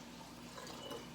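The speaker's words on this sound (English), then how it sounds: "I first put I first pour the water" Water pours into a coffee machine's reservoir as a faint, steady trickling splash close by, with no talk over it.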